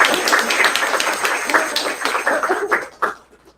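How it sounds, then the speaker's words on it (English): An audience at a scholarship awards event claps for the recipients in a steady, dense burst of applause that thins and fades toward the end. "let's give a round of applause for all the recipients"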